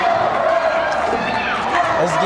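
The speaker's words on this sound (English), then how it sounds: "you can hear the crowd get bigger" Crowd cheering at a women's college basketball game, Jefferson College Lady Vikings against Mineral Area Cardinals, a steady roar of gym noise running beneath continuous excited play-by-play commentary.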